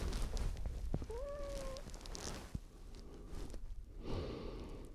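A cat gives a single short, rising meow close by, against faint background noise, with soft breathing and shuffling after it.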